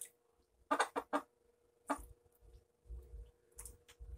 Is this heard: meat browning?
no